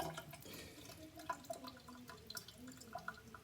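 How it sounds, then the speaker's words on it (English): Running water trickles and drips faintly onto a sharpening stone while a straight razor is honed, with soft, irregular drips and splashes over a quiet background. "Put a few strokes under some running water here."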